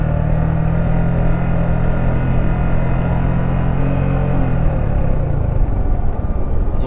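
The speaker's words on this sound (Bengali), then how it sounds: "আমি just 90 ডিগ্রি কার্ভ হয়ে আছি, ফুল অফ ইঞ্জিন ব্রেকের উপর আছি।" A motorcycle engine braking through a 90-degree curve on a mountain road, a loud steady engine drone with low rumble and wind noise, pitch easing slightly downward near the end, no voices.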